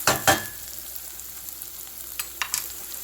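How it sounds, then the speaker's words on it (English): Onions, shallots and sun-dried tomatoes sauté in a pan with a steady, close sizzle. A few sharp stirring clatters sound near the start and again toward the end. No one speaks. "I sauteed the onions, the shallots, and sun-dried tomatoes"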